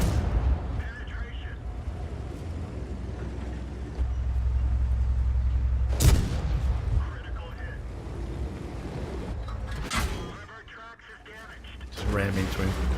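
Artillery fire in World of Tanks: a deep rumbling battlefield bed with a couple of sharp, loud blasts standing out, and a commentator talking over the noise throughout.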